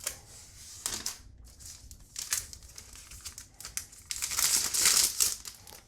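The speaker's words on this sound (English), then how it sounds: "So let's go ahead and take this plastic off." Protective plastic film is peeled and crinkled off a new iPad Mini 5th generation (2019) close up, with bursts of crackling and rustling that grow louder toward the end.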